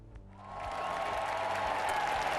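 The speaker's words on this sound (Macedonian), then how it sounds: "Ете го аплаузот, на аплаузот се влегува." Studio audience applause on a talk show greets an arriving guest, swelling up within the first half second and then holding as a full, continuous wash of clapping.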